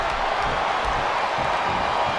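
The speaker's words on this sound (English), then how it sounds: "Listen to the crowd." Dense, continuous roar of a crowd cheering at a wrestling event in WWE SmackDown vs Raw 2007, steady and loud throughout with no clear breaks.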